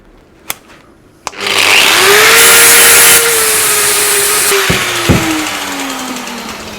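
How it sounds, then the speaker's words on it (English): An abrasive grinder works down the welds on a Damascus steel billet, starting after two sharp clicks and then running as a steady, loud, close-up whine with a slight drop in pitch near the end. "I'm going to grind some of the welds down first so I can put the bar on it."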